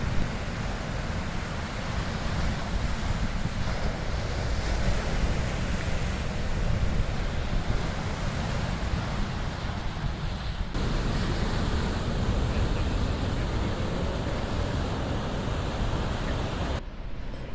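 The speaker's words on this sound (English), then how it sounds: "The unique curvature of the coastline causes waves to crash dramatically against the shore." Atlantic ocean waves crash against the curved rocky shore of Madeira, a broad, loud, continuous roar of surf with wind, steady throughout and free of voices.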